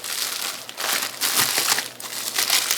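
Plastic bag crinkling and rustling as ratchet wrenches are unpacked, a continuous close, fairly loud crackle with bursts of crumpling and no talk.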